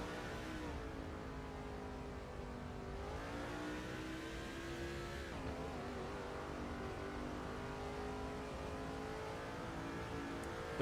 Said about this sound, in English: We are in Kevin Harvick's GM Goodwrench Monte Carlo.